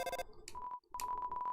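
A cell phone call in the video game Undertale: a short series of electronic beeps and steady tones, with a brief gap partway through, then the tones resume in a quick pulsing pattern, close and clear.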